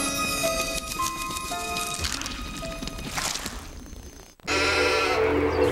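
Sheep bleating in a sci-fi TV commercial about clones, a few wavering bleats over a busy music and effects bed, followed by a brief silence and a loud burst of different sound.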